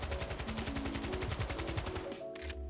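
Full-auto gun spraying at a firing range in the shooter game Warzone 2, a fast even stream of loud close shots that stops abruptly near the end.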